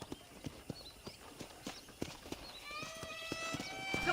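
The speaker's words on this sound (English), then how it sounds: "let's see if you can still ride a horse" Hooves of a ridden horse in the Red Dead Redemption video game clop in a steady walking rhythm, mid-distance, with a whinny and faint game music rising toward the end.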